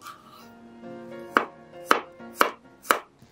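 Tomatoes are sliced into rounds with a knife on a cutting board, four distinct sharp chops at an even pace after a quiet start with a faint background hum.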